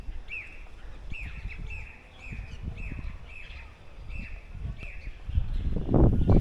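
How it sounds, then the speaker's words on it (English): Birds chirping outdoors in a park in Nanjing, a repeated series of short bright calls at a steady pace, moderately close, over rustling and footsteps, with a louder noise burst at the end. "Birds chirping"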